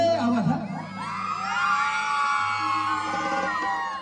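Crowd of women cheering, whooping and shouting loudly together at a haldi ceremony, a sustained high-pitched collective yell lasting several seconds without distinct speech.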